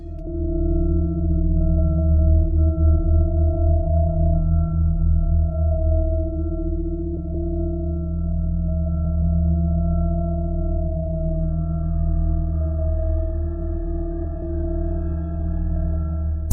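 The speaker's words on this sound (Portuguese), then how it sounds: "Este é o som do espaço sideral gravado pela NASA com uma nave espacial viajando ao redor do" Space sounds recorded by NASA spacecraft travelling around the Solar System: a steady, eerie drone of sustained low tones and faint higher whistles, continuous and unbroken throughout, with no voices.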